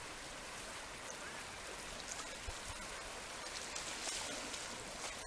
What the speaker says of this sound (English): just water going in and out and nice and white,